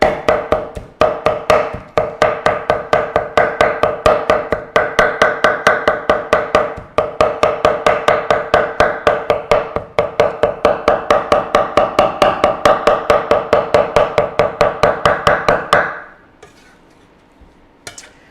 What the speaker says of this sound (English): you can hear the chopping of the meat